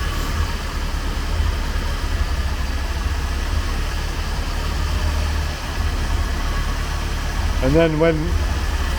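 A 1980 Triumph TR7 engine with twin carburetors idles steadily and close, a continuous low rumble throughout, with a person speaking briefly near the end.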